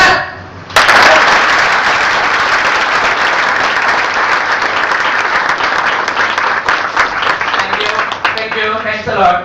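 Loud, sustained audience applause at a conference talk, bursting in suddenly after a brief quiet start and continuing as a dense wash of clapping from a large crowd, with some voices underneath.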